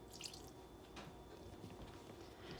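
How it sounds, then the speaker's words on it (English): Green bean juice from the pan is poured into a dish while a Thanksgiving side is made, producing a faint, brief liquid dribble and drip close by in a quiet kitchen. "I like to take a little bit of the green bean juice and just add it in there"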